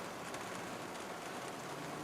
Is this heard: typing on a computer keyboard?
no